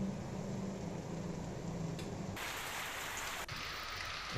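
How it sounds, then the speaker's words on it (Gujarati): Rain pours steadily onto the Maliya highway, a dense hiss of drops striking the road surface that stays even throughout, faint and distant, with no voices. "માળિયા હાઈવે અને માળિયા શહેરમાં વરસાદ જોવા મળ્યો"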